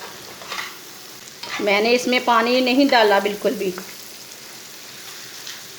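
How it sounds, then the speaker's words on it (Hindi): Eggs fry in a pan for a black masoor dal dish, a soft, steady sizzle heard throughout, partly covered by a voice speaking in the middle. "1 मिनट तक अंडों को भून लेना।"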